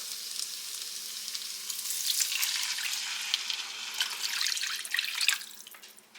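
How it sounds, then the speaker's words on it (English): Two cups of water pour and splash into a hot pan of bratwurst and onions, hissing and sizzling steadily, growing louder midway before tapering off. "So I'm going to add in 2 cups of water."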